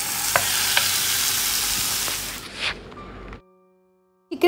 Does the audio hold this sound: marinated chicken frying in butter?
yes